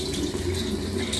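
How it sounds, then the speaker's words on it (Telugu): Water runs steadily from a kitchen tap as a steel spoon is rinsed before curd is served, a continuous close splashing stream with no voices. "ఆ ట్యాప్ అలానే ఉండాలి"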